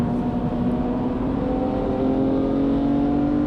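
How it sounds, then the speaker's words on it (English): A BMW E46 M3's S54 engine with a CSL airbox hums steadily with rising harmonic tones as it revs, heard from inside or near the vehicle, continuous and fairly loud. "The CSL airbox makes this S54 engine sound so good"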